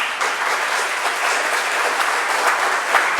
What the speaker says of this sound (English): I invite the congregation to give yourselves a round of applause.